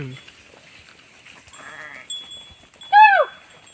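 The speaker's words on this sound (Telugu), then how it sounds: "గొర్రె అయితే గుట్టకి ఎక్కినాయి" Sheep grazing on a hillside after rain bleat in the open, a few scattered calls ending in one loud, close, wavering bleat, with faint background noise between them.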